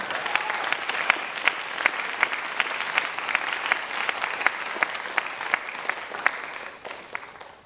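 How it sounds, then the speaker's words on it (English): Audience applause at a junior school graduation: steady, dense clapping from a sizeable crowd, close and fairly loud, holding for several seconds before tapering off at the end. "And I'm sure you want to give Mr. Swingler a really good round of applause too for everything he's done."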